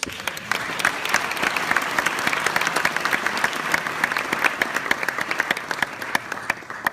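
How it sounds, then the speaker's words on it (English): Educators and community members at a college prep keynote applaud themselves in a hall. The clapping is sustained and dense, fairly loud and even from start to finish, with no voices on top. "So give yourselves a round of applause."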